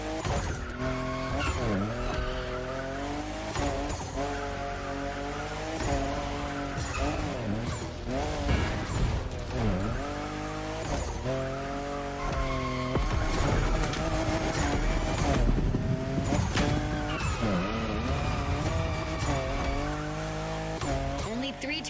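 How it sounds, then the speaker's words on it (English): A Toyota Supra, fifth generation, drifting in a racing video game, with a steady engine roar rising and falling through gear changes and sustained tire squeal and skidding, continuous and loud over a background music bed. "I'm just in love with what Toyota did with this new Supra"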